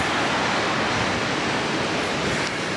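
Ocean surf rolls steadily at Pismo Beach, a continuous broadband wash of waves breaking close by with light wind noise, loud and unbroken throughout, no voices.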